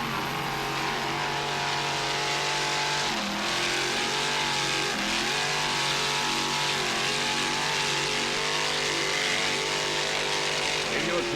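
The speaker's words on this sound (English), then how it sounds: "Thirty-foot superboat, Media Master" Thirty-foot racing superboat driven flat out in an offshore Grand Prix at Ocean City, Maryland, its engines roaring in a loud, sustained drone that shifts pitch with throttle changes, steady throughout.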